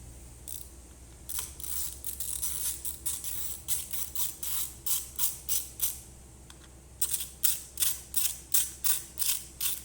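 A hand ratchet tightens bolts on a Ford Fiesta ST180 during a spark plug change, giving quick bursts of sharp metallic clicks in a steady back-and-forth rhythm, close and fairly quiet.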